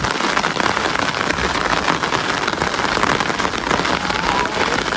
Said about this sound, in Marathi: फुल पावसामध्ये